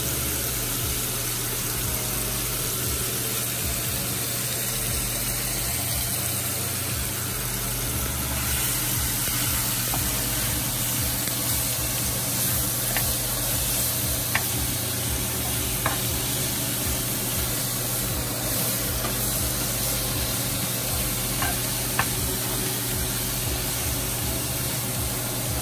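Seafood frying over medium-high heat in a pan on the stove, a continuous close sizzle and hiss with occasional soft clicks and scrapes as the pieces are stirred and turned, no voices.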